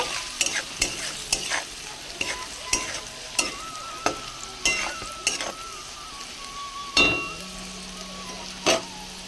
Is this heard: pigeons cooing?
no